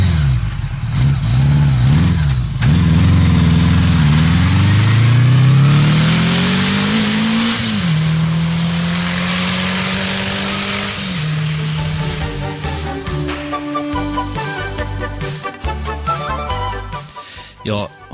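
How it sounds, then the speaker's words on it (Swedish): Motorcycle engine revving up through rising pitch sweeps, then settling into a steady drone as the bike drives off, loud and close, with a voice speaking over parts of it. "Idag så tog vi motorcykeln."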